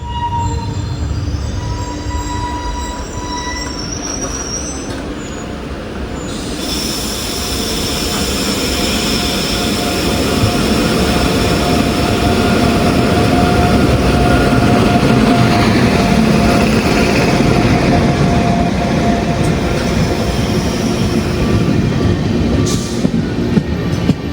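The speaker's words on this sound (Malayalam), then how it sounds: "നിസാമുദ്ദീൻ എറണാകുളത്തേക്ക് വരുന്ന മംഗളയും വരുന്നുണ്ട്, ഒരു P7 ലോക്കോ" Mangala Express from Nizamuddin to Ernakulam, hauled by a P7 locomotive, passes close and loud, a steady heavy rumble of wheels and carriages swelling after a quieter start and holding with squealing metallic tones throughout.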